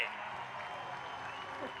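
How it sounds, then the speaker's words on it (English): Crowd applause at an air show on Marina Beach in Chennai, a faint, distant wash of clapping heard under commentary. "a big round of applause, Chennai"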